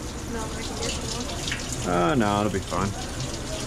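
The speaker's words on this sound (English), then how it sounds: "Rinse it out with a little bit of cold water" Cold tap water runs and splashes as something is rinsed at a kitchen sink during pizza making, a steady gush under brief talk.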